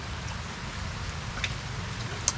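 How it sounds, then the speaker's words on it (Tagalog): Light rain falls steadily outdoors near a vegetable garden, a soft continuous patter with a couple of faint drop ticks, no voices. "Ngayon lang umulan pagdating ko."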